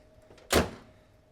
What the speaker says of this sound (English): Tailgate you can open this way, or also with a little bump button right here to open it up too.